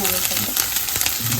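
Mutton keema sizzles and fries in plenty of oil with onions, a dense steady crackle close to the pan, with faint voice and stirring noises mixed underneath.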